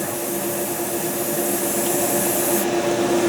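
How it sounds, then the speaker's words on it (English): An airbrush or spray gun mists colour steadily over a surface for post shading, giving a continuous close hiss that stays even throughout and ends with a slight drop in the high end. "mist your color over."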